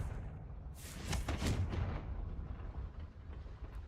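A Confringo spell blast in the Hogwarts Legacy video game, heard as a fiery burst and rumbling impact about a second in, fading into a low lingering roar.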